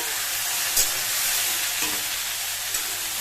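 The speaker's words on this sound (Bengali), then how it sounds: "এটাকে ফ্রাই করবো যাতে সেদ্ধ হয়ে যায় এদিকে পুড়েও না যায়" Taro pieces frying with salt and turmeric in a pan on low heat give off a steady, loud hiss of sizzling oil, with a few brief clinks of a utensil stirring the pan.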